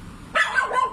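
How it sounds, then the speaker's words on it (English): A dog barks close by in a short loud burst, sharp yelps rising over quiet background noise, with no talk in between. "Shut up, dog."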